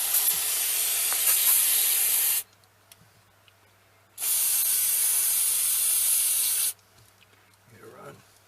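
Contact electronic cleaner sprays loudly in two long hissing bursts from an aerosol can, flushing grease from a diesel truck part, with quiet gaps between and a faint voice near the end.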